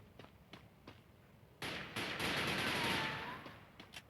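Sustained automatic gunfire in the shooter game Garena Blackout, a dense loud burst of rapid shots lasting a couple of seconds after scattered single shots, with the roar trailing off.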